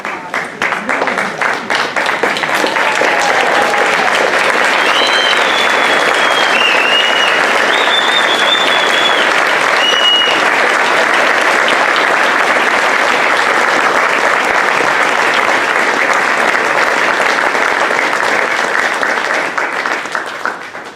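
At a Park Forest Hall of Fame induction ceremony, a standing audience claps in a long, loud, sustained round of applause, with faint voices and a few whistles over the clapping.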